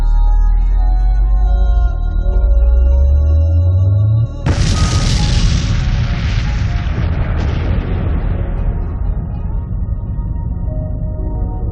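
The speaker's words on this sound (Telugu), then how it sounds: "ఈ ప్రక్రియ వలన కిలోనోవా అని పిలువబడే భారీ పేలుడు సంభవించింది." A kilonova explosion rendered as a cinematic sound effect: a low droning hum with a rising rumble gives way to a single huge, sudden boom that roars out across the spectrum, then slowly fades into a long rumbling decay.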